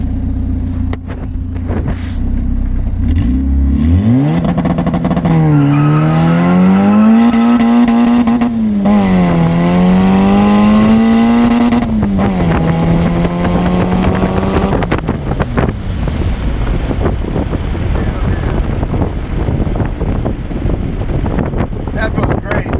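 A Honda D-series engine in a car fitted with racing detent springs and anti-lag pulls hard through the gears, its note climbing, dropping at each quick upshift and climbing again, loud and close, with wind noise throughout.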